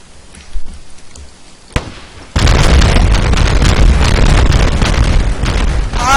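A TNT explosion: a brief sharp pop, then a loud, deep blast that keeps roaring and rumbling close by until the end.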